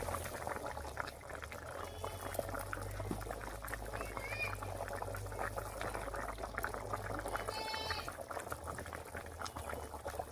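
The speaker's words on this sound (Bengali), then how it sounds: "রান্নায় বলক উঠে গেছে" Chitol fish curry coming to a boil in a pot: soft, continuous bubbling and faint liquid crackle, quiet and close, with a person talking over it.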